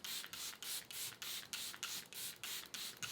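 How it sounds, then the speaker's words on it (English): Charlotte Tilbury Airbrush Flawless Finish setting spray misted in about ten quick, evenly spaced hissing bursts, close and fairly soft, with no talking. "I'm gonna do some layers of setting spray kind of in between my steps"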